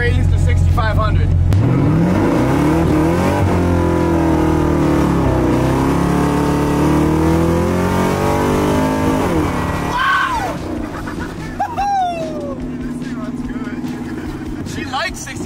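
A supercharged 1965 Ford Mustang engine revs hard and loud, its pitch climbing and holding high near the limiter before easing off. A chirp or squeal briefly cuts through near the end, and a voice speaks faintly underneath.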